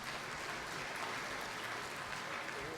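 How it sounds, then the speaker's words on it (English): A crowd at a university athletic Hall of Fame induction gives the inductees a round of applause, a faint, steady, even wash of many hands clapping at a distance throughout. "how about another round of applause for our Hall of Famers?"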